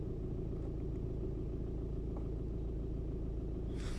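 An Audi A3 8P idles with its wheels turned fully to the right on heavy steering, giving a steady, close, low engine rumble with no talk, and a brief hiss of higher noise near the end.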